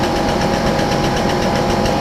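A forging press works hot steel, giving a loud, dense, continuous engine-like drone with a rapid pulsing vibration and a steady mechanical hum, heard close up with no talking.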